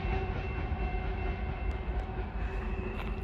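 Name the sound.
CN grain freight train passing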